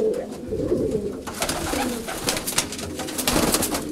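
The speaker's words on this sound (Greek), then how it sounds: "αυτά είναι τα πουλιά του Πιτ" Pigeons cooing in a loft at midday in winter, several close, throaty coos overlapping with soft rustling and wing flutters throughout.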